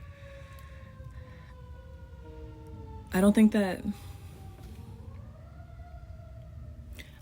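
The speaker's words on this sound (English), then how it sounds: "Sorry, the ambulance." An ambulance siren passing outside, a faint, steady wailing tone that slowly rises in pitch toward the end, running under a nearby woman's speech throughout.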